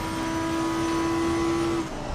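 A race car drives around Silverstone in the video game Assetto Corsa, its engine holding a steady, loud, sustained drone at constant pitch before easing off at the end.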